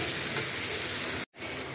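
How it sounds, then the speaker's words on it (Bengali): Prawns being stir-fried with spices in a pan for a prawn and papaya curry give a steady, dense sizzle close by, broken by a brief silent gap near the end before the hiss resumes. "এটাকে আমি এখন কষিয়ে নিব চিংড়ি মাছটা মশলার সাথে"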